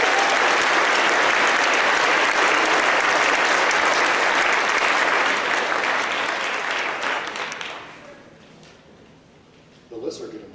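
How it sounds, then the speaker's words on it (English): A large crowd at a school academic awards ceremony claps loudly and steadily for several seconds, then the applause fades away, leaving a quiet room with a brief stir near the end. "Please give all the sophomores a big round of"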